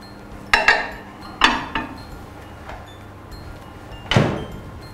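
Bacon going into an LG inverter microwave: a few sharp clinks and knocks of dish and door handling, then a firmer thud as the door swings shut near the end, close by with no talk.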